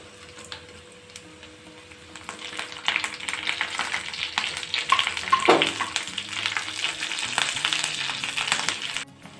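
Cumin, curry leaves and dried red chillies fry in hot oil for a prawn curry tempering, a steady crackling sizzle that swells after a couple of seconds and keeps spattering close by, with no talk.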